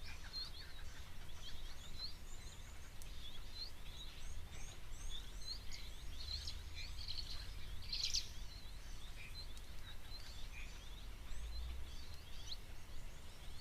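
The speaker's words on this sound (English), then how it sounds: "the noises that they make, quite classical firefinch like chirps and whistles." Firefinches chirp and whistle at a waterhole, a steady scatter of small, fairly faint high calls repeating over a low ambient rumble, with no talk.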